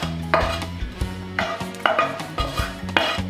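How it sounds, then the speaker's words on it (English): Cooked onions transferred from a pan into a cooking pot: repeated close metallic scrapes and clanks of a utensil against cookware at an uneven rhythm, with a low background hum. "Okay, so I'll now transfer the onions into this pot."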